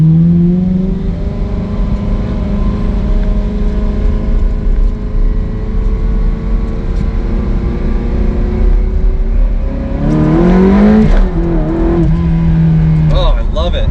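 Engine of a 2003 Ferrari 360 Modena V8 accelerating, a loud close rising drone heard from inside, with pitch climbing through gear changes and a surge near the end.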